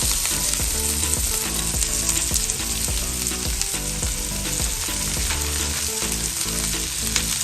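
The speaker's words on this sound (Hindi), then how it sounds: "उसके बाद हम लोग फौरन से ऐड कर देंगे इसमें भी शिमला मिर्च।" Chopped garlic and capsicum fry in a pan, giving a loud, steady sizzle with crackling that runs without pause, overlaid by intermittent clinks and scrapes from stirring.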